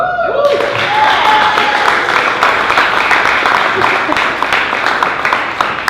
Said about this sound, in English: Also, give a big round of applause to Josh as well.